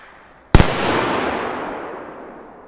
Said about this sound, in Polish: za szybko rzucałeś i one wybuchały